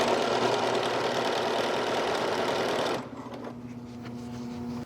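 A sewing machine stitching a cotton gift bag runs in a loud, steady whirring burst for about three seconds, then stops, and a quieter hum follows.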